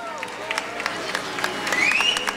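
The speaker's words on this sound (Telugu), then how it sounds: "పెద్దగా కొట్టండి చప్పట్లు" Audience applause rises at an event, scattered claps building to a fuller round of clapping, with a few voices audible in the crowd.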